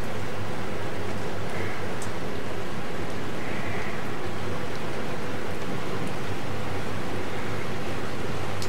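Steady rain on the Norfolk Broads, heard from the front of a boat, hisses evenly throughout, a dense broadband wash with no breaks, close and fairly loud, with no voices.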